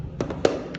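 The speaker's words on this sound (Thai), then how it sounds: "อันนี้สิยิงเซมิเนาะ" A WE Glock 26 Gen 4 airsoft BB pistol fires semi-auto in a few sharp, close pops, spaced unevenly with short gaps.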